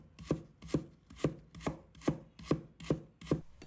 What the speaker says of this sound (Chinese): 1小块生姜，把它切小块。